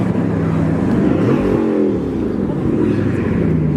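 A car engine revving loudly at an outdoor car show, a deep rumble that climbs and falls once mid-way, close and continuous with crowd murmur underneath.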